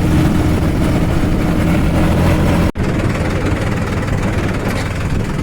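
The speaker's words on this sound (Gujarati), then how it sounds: "અત્યારે હું ટ્રેક્ટરમાં છું." A tractor engine drones loudly and steadily during a ride toward a beach, a heavy low rumble that barely drops once before carrying on.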